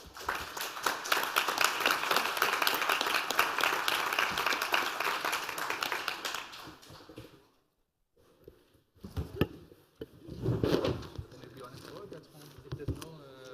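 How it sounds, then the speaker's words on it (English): A conference audience at the Internet Governance Forum 2016 applauds its speakers with dense, sustained clapping for several seconds. The clapping fades to near silence and is followed by scattered, lighter sounds. "Please join me in a round of applause to all our speakers here."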